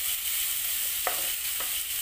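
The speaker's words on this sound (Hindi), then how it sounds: "अब हम डालेंगे इसमें प्याज।" Onions frying in oil in a pan while cooking vegetable filling for veg momos: a steady bright sizzle throughout, with a couple of faint stirring scrapes.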